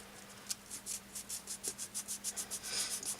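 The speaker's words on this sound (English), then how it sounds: "Just sand her down nicely. Get it all nice and smooth" Sandpaper rubbed over a hobby model to smooth it before airbrushing, a quick rhythmic series of soft scratchy strokes, close but quiet.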